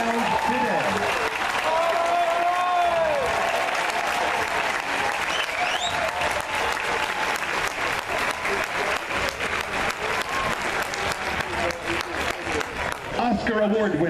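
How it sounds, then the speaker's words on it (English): Stadium crowd applauding seniors at a college football halftime show, a dense sustained wash of clapping that fills the whole stretch, with an announcer's voice heard over it at the start. "So please, let's give these seniors a heartfelt round today."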